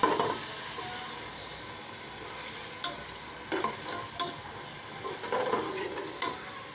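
Ginger and garlic paste fries in a pan while being stirred, giving a steady loud sizzle with intermittent scraping clicks of a spoon against the pan, and no voices.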